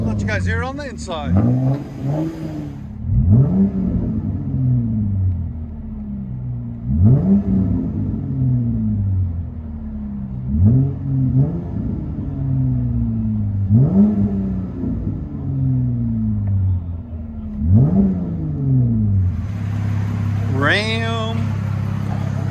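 A 2019 RAM 1500 with a 3.6L V6 and Dynomax Race Bullet exhaust, heard from inside the cab: a deep droning exhaust swells through a series of repeated revs and upshifts, each rising then dropping, loud and close.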